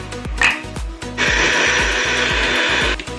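Kitchen mixer grinding garlic, ginger, pepper and cumin into paste, with thumps and rattles of spices in the jar before a steady loud whirring run of the motor.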